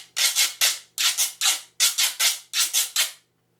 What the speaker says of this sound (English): It's called a guiro. It's a Latin American instrument that's generally made out of a gourd.